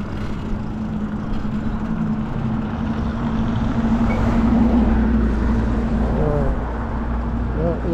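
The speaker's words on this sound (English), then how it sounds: "I'm going to let this school bus go by us." A school bus rolls past a person stopped on an e-bike by a roadside, its engine rumble swelling to a broad low roar midway and fading again, with a voice speaking intermittently over it.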